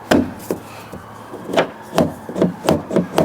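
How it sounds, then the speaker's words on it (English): Sharp knocks as a rear right door latch is tapped into place on a Range Rover Sport or Discovery 3 or 4, eight or so close, dull hard hits at an uneven, quickening rhythm, with no talk. "And then I've got to knock it this way into place."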